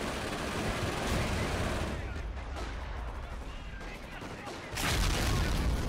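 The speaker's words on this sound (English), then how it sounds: "oh, that was one of the mortars." In the Company of Heroes Blitzkrieg mod, mortar shells land amid dense battle noise. A loud, continuous roar of gunfire and explosions swells again near the end, with a voice speaking over it.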